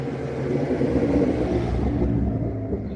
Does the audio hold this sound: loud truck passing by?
yes